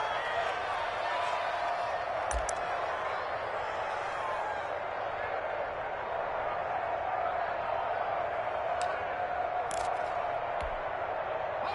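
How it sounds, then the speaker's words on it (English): A football stadium crowd in a video game, a steady broad roar of cheering that swells under a commentator's voice, with faint scattered claps. "The crowd getting into it as we come up on a big third down."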